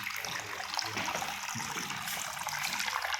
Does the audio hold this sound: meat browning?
no